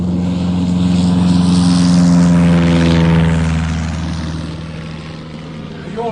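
Radio drama effect of a propeller aircraft taking off from a runway: a loud, close engine drone with a steady throbbing hum that swells as power builds, then eases slightly as it moves away.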